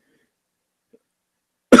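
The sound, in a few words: cough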